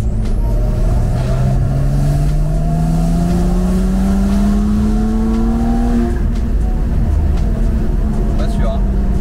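A Porsche 992 Carrera 4 with a stage 2 tune and its exhaust valves closed drones loudly and accelerates, engine note rising steadily before settling, while people talk inside the car.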